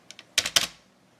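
Computer keyboard keys are tapped in a short burst, two light clicks followed by a few louder, quicker strikes, close and dry with no talking.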